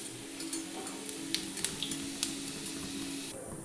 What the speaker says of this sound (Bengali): তেল দিলাম, গোটা জিরে দিচ্ছি